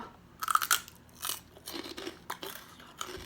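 Crispy pork rinds bitten and chewed close to the microphone, a few loud crackling crunches at first, then softer irregular chewing crunches, with no talk.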